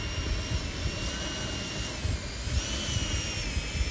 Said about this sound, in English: Fire afterburner